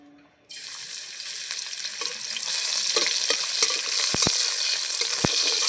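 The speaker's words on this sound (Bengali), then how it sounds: "এখন ফোড়নে আমি একটু রসুন দেব রসুনটাকে আমি গ্রেট করে নিয়েছি" Grated garlic hits hot oil in a pan on a wood-fired stove and starts sizzling loudly, a bright continuous crackle that builds slightly, broken by a few sharp taps of a spoon against the pan.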